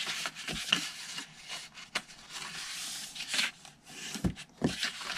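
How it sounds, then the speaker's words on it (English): Cardstock being folded and burnished along score lines while making a twisted paper box, giving soft close rubbing and scraping strokes with a few sharper creasing snaps, all without talk. "All right, now I'm just gonna fold and burnish."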